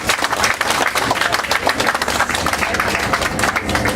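Guests at a boat party cheering and clapping, a dense, steady wash of applause and crowd noise filling the space throughout, fairly loud and close.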